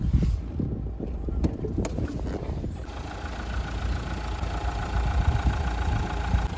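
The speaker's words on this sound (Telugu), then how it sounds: "అండ్ ఇంజన్ నాయిస్ గురించి మాట్లాడుకుంటే ఒకసారి ఆన్ చేసి అయితే చూపిస్తాను." A Mahindra XUV700 with the 2.2 diesel engine idles with the bonnet open, a steady mid-pitched engine hum after some wind buffeting and handling noise at the start.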